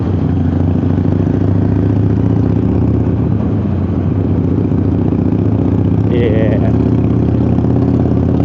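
A motorcycle engine rumbles loudly and continuously up close, a deep steady throb with a brief higher whine partway through.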